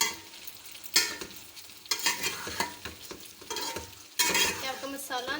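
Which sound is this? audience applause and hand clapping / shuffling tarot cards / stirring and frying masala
stirring and frying masala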